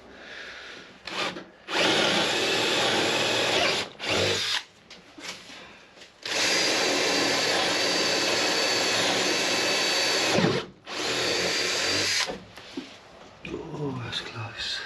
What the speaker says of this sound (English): All I need to do now is cut the hole in the right place.